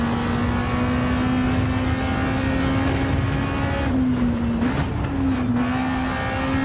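Lancia rally car from Gran Turismo 7 holding a steady, loud engine drone at high revs, dipping briefly as it lifts and shifts before pulling hard again, continuous with no voices.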